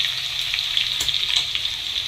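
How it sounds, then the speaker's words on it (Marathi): Chopped onions fry in a hot tempering of mustard seeds, cumin and green chilli paste, giving a steady, close, loud sizzle with faint stirring scrapes throughout and no talk. "आणि बारीक चिरलेला कांदा या फोडणीमध्ये घालावा."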